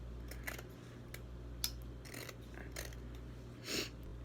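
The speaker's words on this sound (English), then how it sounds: "This doesn't want to cut. Not like I got the right scissors for it." A few short, sharp snips of scissors cutting, spaced irregularly over a steady low hum, close by.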